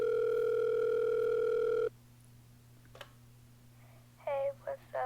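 A telephone is picked up, then a steady loud dial tone runs for about two seconds, cuts off with a click, and a voice starts speaking near the end.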